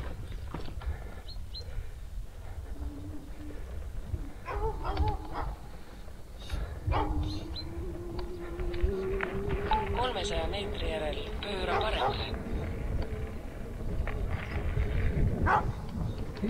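A small dog barks a few times in the distance during a road trip in northwest Latvia and southwest Estonia, heard faintly beneath ongoing talk and steady vehicle rumble.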